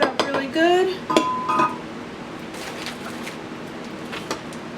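Spoon stirring homemade fermented kiwi strawberry soda in a container, a run of bright clinks and scrapes against glass in the first couple of seconds, then only scattered faint taps over a quiet background.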